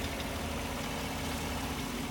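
A 2015 GMC Sierra 1500 pickup truck engine idles steadily, a low rumbling drone with an even throb that holds constant throughout.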